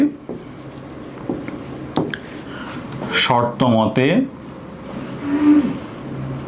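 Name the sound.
writing out a math equation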